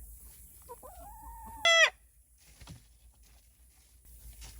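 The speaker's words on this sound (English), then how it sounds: "Hey Kane Jr., you gonna crow for me today?" A rooster crows once, loud and fairly close, a short rising call over quiet farmyard background with faint clucks and no talking.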